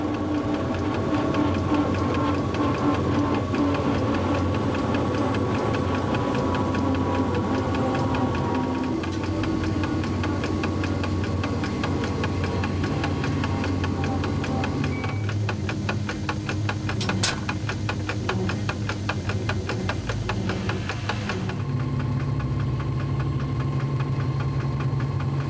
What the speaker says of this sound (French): et Bernard actionne le manipulateur vers la plage de freinage rhéostatique